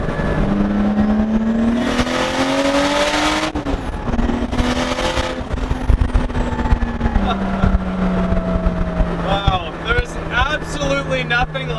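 Nissan S13 with a 500-horsepower RB25DET engine and a light chassis accelerating, a loud steady engine drone rising and shifting in pitch through the gears, with people talking over it.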